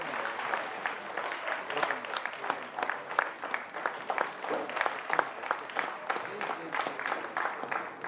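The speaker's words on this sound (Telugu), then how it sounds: "Give her a big clap comrade." An audience at a women's bank employees' convention claps steadily in a sustained, moderately distant round of applause that keeps an even, rippling rhythm throughout.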